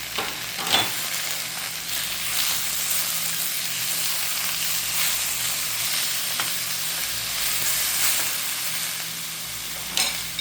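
Bok choy and tomatoes stir-frying in a pan, a steady moderate sizzle with occasional scraping stirs, close and alone without talk.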